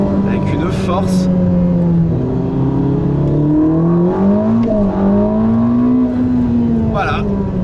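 A Ferrari SF90 Stradale, a 1000-horsepower hybrid hypercar, pulls hard out of corners, its engine note rising and falling through quick gear changes, heard from inside with steady road noise throughout.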